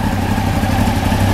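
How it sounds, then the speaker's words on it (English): A carbureted motorcycle engine idles with the throttle released, a steady, loud, close mechanical chug with a light clatter and no talking. "I should be able to let go of the throttle and it will idle"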